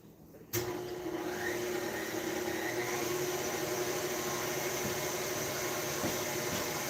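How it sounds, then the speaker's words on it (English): An old KitchenAid stand mixer starts abruptly and runs with a steady motor whine, a constant mechanical hum filling the room at moderate volume. "we'll let my trusty old KitchenAid make some stuff"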